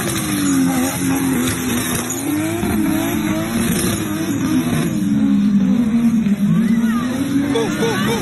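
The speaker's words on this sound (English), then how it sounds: "So it seems that if it's three of them in all, that's drifting in the street." Several cars drift on a street in Jamaica, tire squeal and engine roar sustained throughout, loud and close, with crowd chatter and babble mixed underneath.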